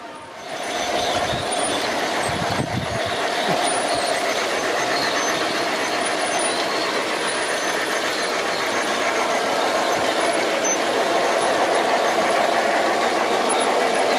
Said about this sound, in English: Here comes a fictional train based on a company called the Bear Whiz Brewing Company